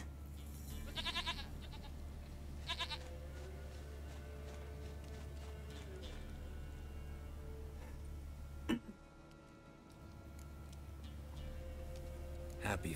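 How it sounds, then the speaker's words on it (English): Goat bleating in The Witcher 3 video game, a few short bleats rising over a steady game backdrop, with a sharp knock partway through. "Goat of mine! Dearest, sweetest goat!"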